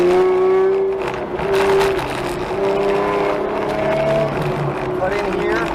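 A car works through a wet autocross course, its engine note climbing and dropping in pitch as the throttle is fed out of corners, droning loud and close from inside the cabin.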